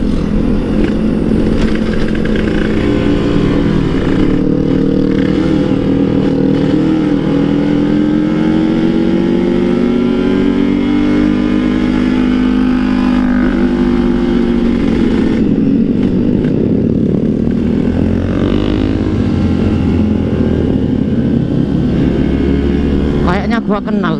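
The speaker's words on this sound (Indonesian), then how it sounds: "Tuh dia suaranya motornya ngorok boy" A two-stroke Kawasaki Ninja motorcycle engine drones and revs loudly while climbing an uphill road, pitch rising and falling with throttle changes and downshifts, while a person talks over it.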